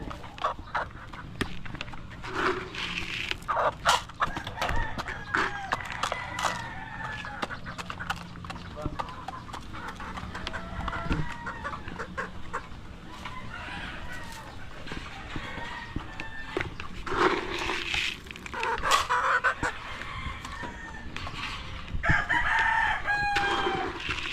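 Roosters crow repeatedly amid clucking chickens, with people talking nearby throughout and occasional clopping sounds.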